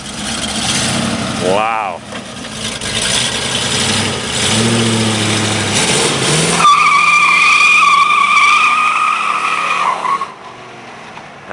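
A Ford Torino Squire wagon's Super Cobra Jet engine cranks and roars, revving in rising surges and then holding a high whine before cutting off; a voice exclaims briefly.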